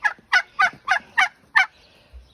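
A tom turkey in snowy winter gobbles in six quick, loud bursts at an even rhythm, close by, with no talking over it.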